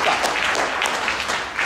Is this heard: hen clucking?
no